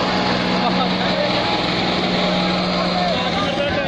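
A Holland tractor engine runs steadily while driving a tiller, a loud continuous droning rumble with a constant pitch that holds at full strength throughout, with no pauses or breaks.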